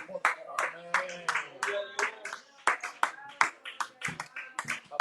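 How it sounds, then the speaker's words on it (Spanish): Rhythmic congregational clapping in a church, sharp regular claps in a steady beat, mixed with singing or chanting voices throughout. "Aplaudamos su nombre, aplaudamos su nombre."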